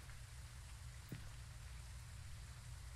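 Steady rain falling at night, a soft continuous patter with one brief sharper drop or splash, no voices present.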